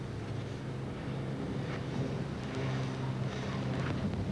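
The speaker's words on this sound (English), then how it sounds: "It's a little windy now." Steady wind above a rocky gorge rushes and buffets against the microphone, a continuous low roar with gusty swells and no voices.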